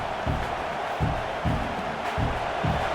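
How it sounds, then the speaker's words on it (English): A stadium crowd in College Football 26 roars continuously, with rhythmic swells of stomping or chanting pulsing through the dense, loud noise. "The roar of the crowd trying to fuel this defense to keep them pinned in their own end"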